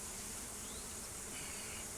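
Honey bees from a swarm-capture colony buzz steadily around an open hive during an inspection in Biloxi, Mississippi, a dense, continuous drone with no gaps.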